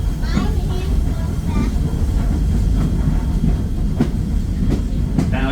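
Passenger train running on the rails through Paradise, Pennsylvania, heard from inside a car: a continuous loud rumble with clickety-clack beats and faint squeals as it climbs a hill, with a voice talking over it.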